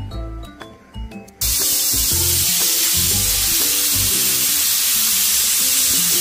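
A pressure cooker on a high gas flame lets out its first whistle: a loud, steady rush of steam hiss that suddenly starts after a few quieter kitchen sounds and keeps going without a break.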